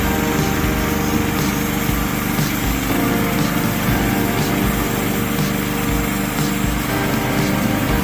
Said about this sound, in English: This machine transforms logs into paper-thin masterpieces with its 5 kilowatts motor, as powerful as it is smooth.